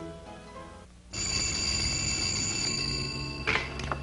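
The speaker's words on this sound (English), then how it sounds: "Colonel Heller, your phone." An old telephone bell ringing steadily in a wartime office scene, a continuous loud electric trill that starts abruptly after a quieter opening and holds for nearly three seconds, with a faint bump of other activity near the end.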